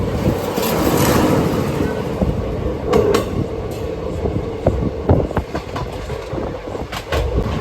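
A passenger train heading toward Mysuru pulls out and runs along the rails with a steady, close rumble broken by clickety-clack wheel clicks and thumps, with faint voices in the background.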